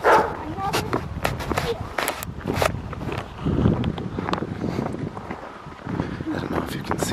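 A dog outdoors on a mountain peak trail gives a few short barks and yips amid close, frequent human talk and footsteps.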